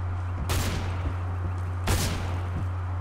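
Two loud, close gun bursts ring out in Counter-Strike: Global Offensive on the Safehouse map, about a second and a half apart, over a constant low game hum.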